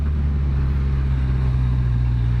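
A Kawasaki Ninja 1000 motorcycle engine idles with a steady, even low drone, close and continuous throughout.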